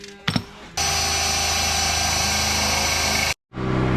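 A power drill bores holes through the steel frame of a 1987 Toyota 4Runner, a loud sustained high whine after a short start, running steadily for a few seconds before stopping and starting again.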